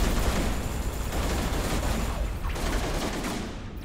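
Rapid gunfire from the player's spaceship in Everspace 2, a dense loud stream of automatic shots rattling continuously with no pause, close and dominant, easing slightly toward the end.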